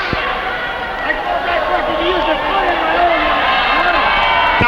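A wrestling arena crowd reacts loudly and steadily throughout, a broad wash of shouting and jeering at a match, while a commentator's voice runs over it.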